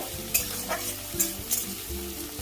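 Onions frying in hot oil for a Bengali jackfruit and prawn dish, a steady close sizzle broken by a few sharp scrapes of stirring, with no voices.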